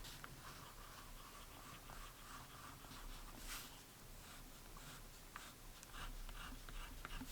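A Pelikan M400 fountain pen nib scratches softly and continuously across paper in close, quiet strokes with small irregular pauses, and no voices.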